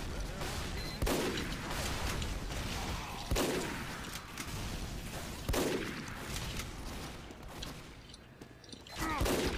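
Sentry gun in Team Fortress 2 firing rapid, loud bursts of gunfire in repeated volleys, separated by brief lulls, amid other game sounds.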